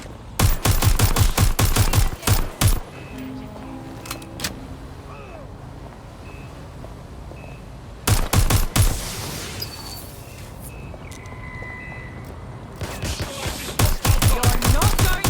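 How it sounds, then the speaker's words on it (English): Gunfire in the Watch Dogs Legion video game, with dense rapid bursts of automatic shots in three loud clusters separated by quieter stretches of game ambience and faint electronic tones. "Gunfire!"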